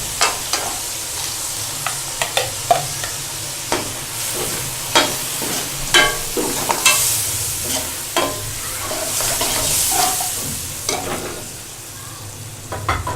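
Steady sizzling of spices frying in a pan for matar aloo, with repeated scraping and clinking strokes of a spoon stirring, fairly close and continuous.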